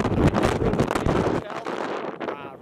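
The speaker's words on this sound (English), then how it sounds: "Real windy" Strong wind buffets the microphone in loud, rough gusts, easing slightly toward the end.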